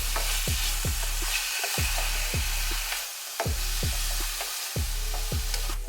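Paprika and black pepper seasoning get stirred together in a pan for chicken and shrimp Alfredo, a regular series of low scraping strokes over a faint hiss, close and steady, with no talking.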